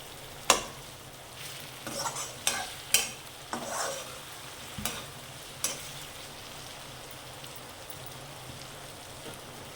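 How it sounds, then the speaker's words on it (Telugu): Potato pieces for aloo poha frying in hot oil in a pan, giving a steady close sizzle with several sharp clinks and scrapes of stirring in the first half, fading to a softer hiss. "వేడి ఆయిల్లో ఆలుగడ్డలు తొందరగా మగ్గుతాయి."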